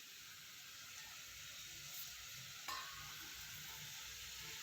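Chicken pieces are stirred into hot, fried tempering in a pan for a curry, with a steady, soft sizzle throughout and a brief clink of the spoon partway.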